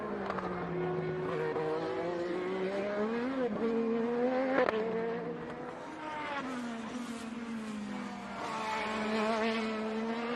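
An IndyCar race car at the Monterey track, its engine note rising and falling steadily as it climbs uphill under braking and acceleration, a continuous strong tone with shifting pitch and no talking.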